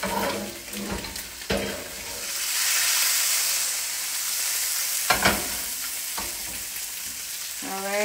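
Turkey sausages fry in a pan with a soft, hissing sizzle that swells and fades, punctuated by a few sharp clinks and scrapes of a utensil against the pan.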